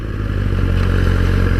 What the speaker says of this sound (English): It's smooth, creamy 4-cylinder engine.